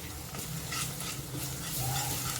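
Ginger-garlic-green chilli paste with coriander, mint and garam masala sautéing in oil for a flat bean (valor papdi) curry, a steady close sizzle with soft stirring scrapes, no voices.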